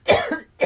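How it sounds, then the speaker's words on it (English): A woman coughs twice at close range indoors, a harsh burst followed by a brief pause and a second short cough. "I'm gonna cough and I'm gonna move my face away"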